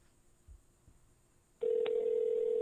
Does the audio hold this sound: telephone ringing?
yes